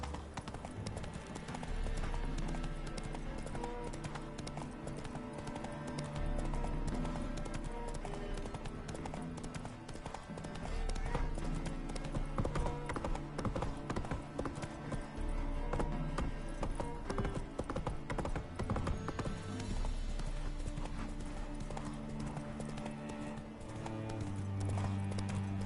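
Roach, the horse in The Witcher 3 video game, trots along with steady rhythmic clip-clopping hooves over a game soundtrack, with occasional snorts and a brief whinny.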